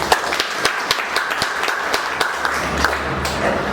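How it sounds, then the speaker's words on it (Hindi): A crowd at a field leaders' business meeting claps together in a steady, dense burst of applause, with sharp individual claps standing out over a low hum throughout. "पोस्ट के लिए एक बार जोरदार तालियां।"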